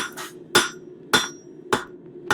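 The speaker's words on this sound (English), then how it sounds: "we're gonna take it to our regular forging hammer" A forging hammer strikes hot metal being shaped into a leaf, with four loud, evenly spaced ringing blows about half a second apart over a low background hum.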